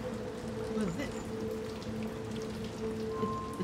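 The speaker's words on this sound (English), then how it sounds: "Let's get out of this rain." Steady rainfall in the video game Little Nightmares II, a continuous soft patter spread evenly throughout, mixed with low tonal game ambience and a brief faint voice.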